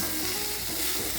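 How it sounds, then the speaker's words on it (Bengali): Bitter gourd, potato and long beans fry together in oil in a home kitchen, a continuous close sizzle with faint stirring, and no one speaking. "উচ্ছে আলু বরবটি ভাজা হচ্ছে।"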